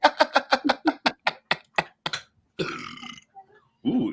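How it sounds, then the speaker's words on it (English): A man lets out a rapid string of about a dozen short, rhythmic burps close to the microphone, then one long drawn-out belch followed by a few softer grunting sounds. "I don't think my burps stink today"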